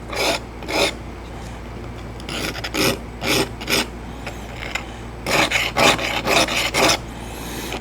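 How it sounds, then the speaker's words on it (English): Single-bevel archery broadheads are drawn across a sharpening tool, giving clusters of short, scraping rasp strokes in an uneven rhythm, close and fairly loud over a quiet background. "they sharpen and clean up really nice on this sharpening tool"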